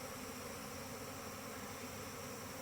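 A large swarm of honey bees buzzing around a hive, a steady, dense droning hum that stays even and continuous throughout, fairly faint and with no talking.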